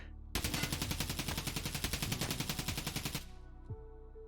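SCAR rifle emptied in one long full-magazine burst in Escape from Tarkov, a rapid, steady stream of loud, close gunshots lasting about three seconds before cutting off into a short ringing tail.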